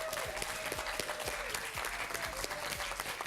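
A studio audience at a quiz bowl match applauds the judge, a steady, even burst of many hands clapping close and loud throughout, with low thumps underneath.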